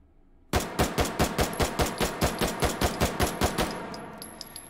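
A Steyr M1912 P16 pistol in 9x23 Steyr, stock attached, fires full auto in the VR game H3VR: one sharp, rapid burst of about sixteen evenly spaced loud shots, then a few faint clinks of spent casings.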